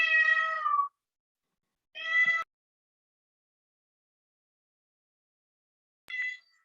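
A house cat meows three times, a long drawn-out call, then a shorter one, and after a pause a brief final mew, close and clear in an otherwise quiet room.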